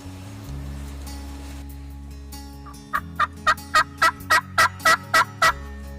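A wild turkey tom gobbling during a spring hunt, a run of loud, rhythmic gobbles repeating in quick succession close by over a steady low background hum, with no talking.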